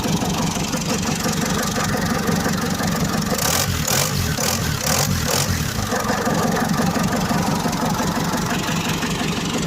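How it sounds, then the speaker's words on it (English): Ford Transit Mk5 van engine running just after a cold start, a loud, steady, close mechanical drone that stays constant throughout with no talking over it. "this is the Transit engine running"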